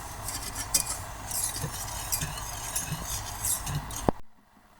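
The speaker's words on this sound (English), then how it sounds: "we're going to stir it with a whisk until it starts to melt" A whisk scrapes and clinks against a dry saucepan as two cups of sugar are stirred for caramel, a steady run of close metallic scraping and light taps that stops abruptly near the end.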